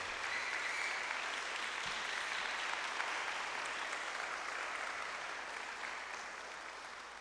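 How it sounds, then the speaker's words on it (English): An audience applauds in a sustained, even roar of many hands clapping at once, fairly distant and diffuse, tapering gently toward the end without any speech. "He deserves a bigger round of applause for this."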